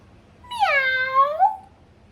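A cat gives one clear, drawn-out meow up close. The cry rises, holds and falls over about a second, standing alone against a quiet background.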